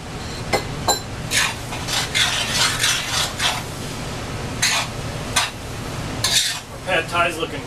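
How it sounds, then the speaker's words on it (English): Pad Thai noodles with vegetables and chicken are tossed in a hot pan, making continuous scraping, stirring and light clattering of utensil against metal, with a soft sizzle beneath and a few sharper knocks. "I'm going to give the noodles a good toss with all the other vegetables and chicken"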